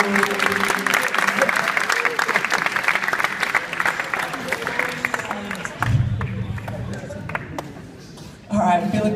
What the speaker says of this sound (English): Listen to this applause wash over you.